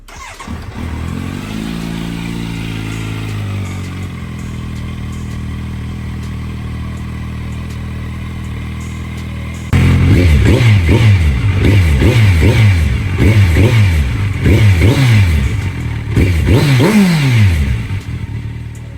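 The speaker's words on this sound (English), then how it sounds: "I'm going to do a first test start so you can hear what the bike sounds like with the stock muffler box and the 11 inches slip-on" A crashed Kawasaki Z900 inline-four motorcycle with a stock muffler box and 11-inch slip-on cranks, catches and idles smoothly, then revs repeatedly in sharp rising blips, loud and close throughout.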